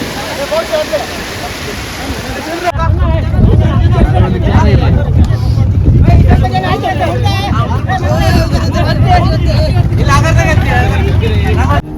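A motor boat on a trip to Netrani island rumbles steadily and loudly, with churning water noise underneath and a babble of passengers talking over it.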